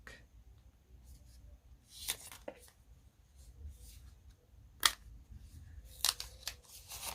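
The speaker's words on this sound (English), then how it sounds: "So we're just going to peel this back." Crinkly crackling and sharp plastic snaps as bubble wrap packaging is peeled back from an AirPods clone case, faint and close with a few louder pops over a quiet background.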